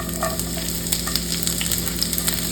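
Onions sizzling hard in a hot pan for a beef and asparagus stir fry, with quick scraping stirs running through a dense, steady frying hiss, close and loud, no talking.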